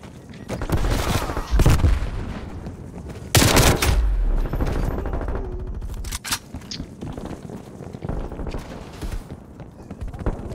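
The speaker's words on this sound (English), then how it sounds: "they play with machine guns" Automatic weapon fire from a Call of Duty match on the Nuketown map rattles in loud bursts and volleys, with sharp single shots mixed in, while players talk over the game audio.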